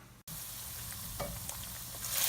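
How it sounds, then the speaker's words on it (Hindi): Chicken frying in a pan for Pakistani-style Singaporean rice, a steady close sizzle that starts after a brief dropout and swells slightly near the end, with faint clinks throughout. "चिकन हमारी फ्राई हो गई है।"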